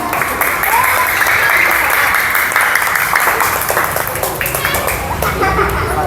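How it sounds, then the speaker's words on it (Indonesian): An audience at a mosque rehearsal for a Maulid Nabi celebration bursts into sustained applause, dense clapping continuing loud and steady for several seconds with faint chatter underneath. "tepuk tangan biar semangat semuanya"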